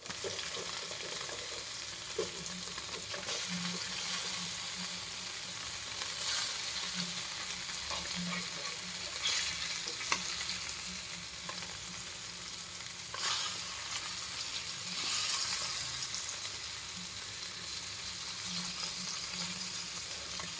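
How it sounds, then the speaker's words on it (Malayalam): Fish fries in a pan for a Kerala-style fish fry, a steady crackling sizzle running throughout with occasional louder bursts and faint stirring clatter, no voices. "മീൻ വറുത്താക്കുമ്പോൾ മൊരിഞ്ഞിട്ടാ നല്ല"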